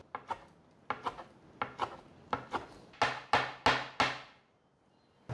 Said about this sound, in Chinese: 换一个方向，切碎